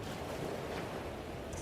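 Steady water and wave wash with a faint wind-like hiss from the 2007 video game Bioshock, continuous and fairly quiet, with no voices.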